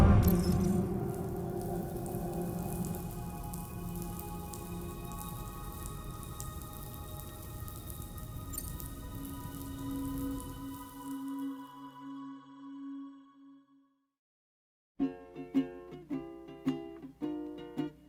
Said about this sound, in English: Those raindrops are falling on my head.